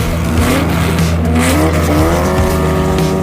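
A 1956 Porsche 550A Spider race car with a 1.5-liter engine drives past close and loud, its engine note rising and falling steadily through a continuous run with a hint of tire noise.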